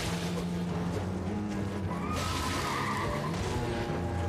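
A horse in the video game Elden Ring whinnies amid loud, dense game noise, its drawn-out neigh rising over constant rumbling and clattering effects, with no speech.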